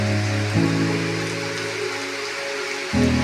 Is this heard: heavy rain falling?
yes